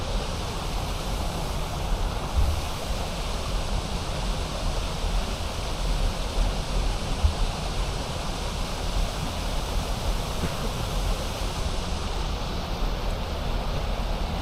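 Rushing water at Deception Falls, a waterfall in Washington State, roaring as a constant broadband wash from nearby, steady and unbroken with no voices.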